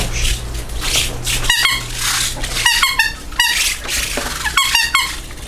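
During a prank, a person's voice imitates loud squeaking with a string of short, high chirping squeaks in irregular bursts over a low steady hum.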